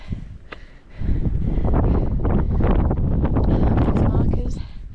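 Gusty mountain wind on the hike up to Mueller Hut roars across the microphone in a loud, sustained rumble that swells after a brief lull, with a voice faintly under it.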